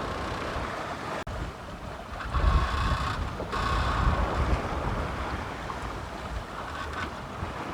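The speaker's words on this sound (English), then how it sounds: "I'll show you the swells that we've currently got." Ocean swells of two to four metres wash around a sailboat crossing the Atlantic: a continuous close rush of water and wind, swelling louder for a few seconds midway, with no voices.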